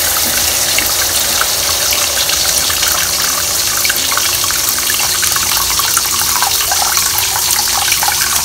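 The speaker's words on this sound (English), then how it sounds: "I will pour water. For soup." Water poured into a cooking pot for soup in a home kitchen, a loud, steady gushing splash that runs continuously and close up for several seconds with no speech.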